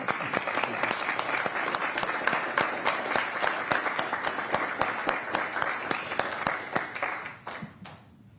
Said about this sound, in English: Could we all give him a round of applause?